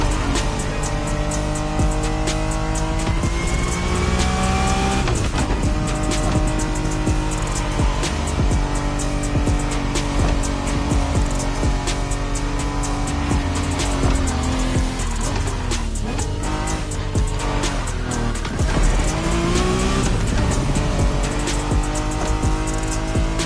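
Honda NSX sports car racing in The Crew Motorfest video game, a continuous loud engine note rising and falling through gear shifts, with tire squeal and skidding mixed in under music-like game sound.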